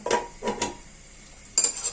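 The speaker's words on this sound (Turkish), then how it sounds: "Suyumuz kaynayana kadar arada karıştırın. Birbirine yapışmasın. Tencereye yapışmasın." Circassian manti are stirred in a pot of water, a few quick metallic clinks of a spoon against the pot's side, close and clear, then a brief pause before another scrape.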